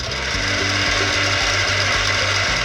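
A Westpoint electric food chopper runs with a loud, steady motor drone and a rapid rhythmic low rattle throughout, close and continuous with no talk.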